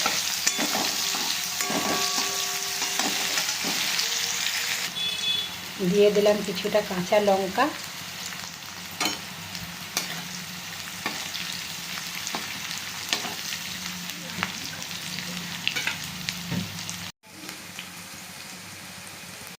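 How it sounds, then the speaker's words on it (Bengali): Onions fry in a pan with a loud, steady crackling sizzle and bursts of stirring. A voice speaks briefly partway through, and the frying carries on without pause. "পেঁয়াজটা দিয়ে এবার আমরা খুব ভালোভাবে এটাকে ভাজা করে নিচ্ছি"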